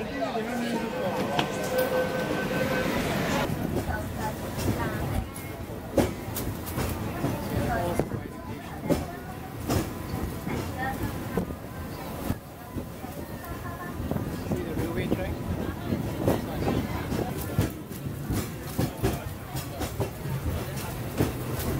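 A train in Hong Kong rumbles and clatters steadily throughout, with a busy crowd murmuring and talking nearby over the rolling noise.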